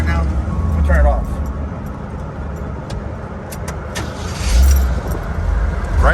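The engine of a 1976 Jeep Wrangler CJ7 rumbles at idle, with a low steady drone that swells around the shutoff and restart, close by outdoors, while a person talks over it.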